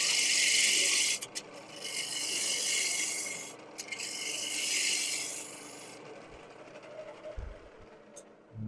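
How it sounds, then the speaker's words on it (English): A spindle gouge cutting wood on a spinning lathe, giving a loud rasping hiss in long sustained passes with brief breaks between them, then fading to a quieter mechanical hum with a few light knocks near the end. "We'll use this spindle gouge."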